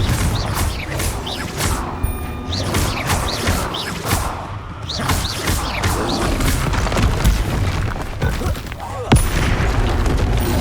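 Repeated Confringo fire-spell blasts in the Hogwarts Legacy video game, a continuous run of loud booming bursts and crashing impacts layered with game combat noise.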